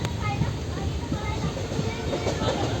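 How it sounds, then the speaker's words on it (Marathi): A train departing Goa for Mumbai rolls along with a steady rumbling clatter, wheels knocking rhythmically close by, with faint background voices. "फायनली आपली ट्रेन निघालेली आहे."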